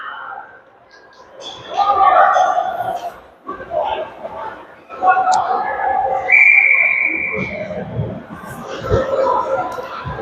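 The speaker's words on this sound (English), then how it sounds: "And whistle." A referee's whistle sounds one clear, sustained blast at a youth bantam ice hockey game, over crowd chatter, rink noise and commentary.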